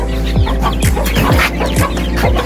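Chickens cluck close by near a cage in a steady run of short, repeated clucks, with no talking.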